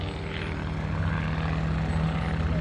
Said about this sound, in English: This airplane, built for one purpose and one purpose only, and that is for high energy aerobatics.